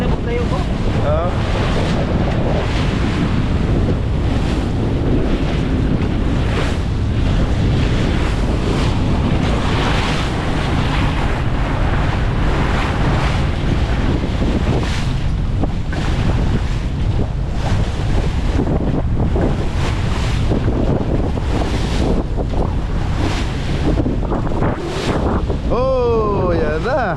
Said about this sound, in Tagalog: Mahangin ano din pala dito ang pagtawid guys dito sa Cebu.